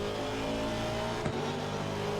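An Aston Martin race car engine in Assetto Corsa Competizione held at high revs and bouncing off the rev limiter, a loud, steady droning whine with a brief stutter midway, no voices.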